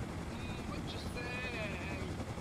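A video game helicopter hums with a steady, rotor-like drone and faint whining tones, heard under people talking.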